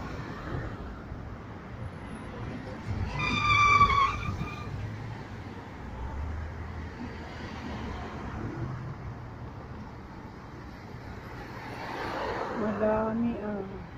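A car drives past on a city street in Riyadh, its engine and tyre noise swelling near the start and again toward the end, with people talking nearby throughout.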